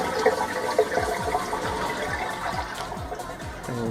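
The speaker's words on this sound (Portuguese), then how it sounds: "Esse aí é o barulho da chuva d'água que eu tô querendo resolver." Water falling down the return pipe of a marine aquarium, a continuous gurgling splash with rhythmic glugging pulses, close and fairly loud, like a toilet or drain filling.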